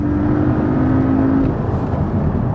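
A 400 bhp Porsche Cayman is driven hard, its engine giving a steady, loud drone that holds throughout as the car pulls.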